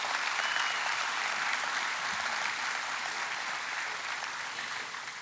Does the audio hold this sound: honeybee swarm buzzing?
no